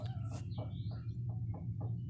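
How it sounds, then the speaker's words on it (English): Hens cluck softly in a quick run of short, clipped notes, close by, over a low steady rumble. "Here's a couple of the hens."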